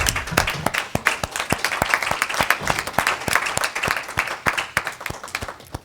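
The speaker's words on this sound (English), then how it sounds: "That's not ritualistic applause because we all know what you do." Sustained applause from a crowd at a school district board of education meeting, dense clapping that stays steady and fairly loud throughout with no talking over it.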